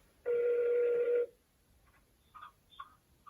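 During a phone call, a telephone rings once on the line: a single clear electronic ring of about one second, followed by faint muffled tones and clicks. No one speaks.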